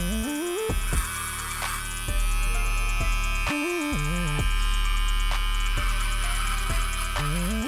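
A Kemei 2299 hair clipper fitted with Babyliss Lence Pro blades runs dry with no oil, giving a loud, steady electric buzz that pulses and stutters in repeated bursts, heard close up with no talking.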